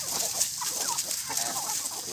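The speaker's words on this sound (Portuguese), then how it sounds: "Que bonito, os gansos." Geese, a male and a female, honk and cackle in a steady noisy chorus at close range outdoors while being fed corn, a continuous din with no pauses.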